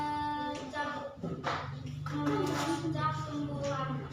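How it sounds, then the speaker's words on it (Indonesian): A classroom of students claps in scattered applause, while children's voices and talking carry on over and between the claps. "Tepuk tangan."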